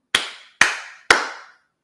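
Three sharp, loud hand claps spaced about half a second apart stand alone in quiet, a person clapping to imitate the slap of bodies during sex.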